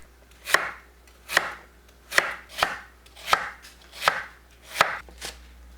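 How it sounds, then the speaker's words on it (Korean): A knife slices kohlrabi into thin pieces about 0.2 cm thick on a cutting board for nabak kimchi, giving about eight crisp, evenly spaced chops, close and clear, with no talking. "콜라빈은 배추와 같은 크기로 썰어주세요"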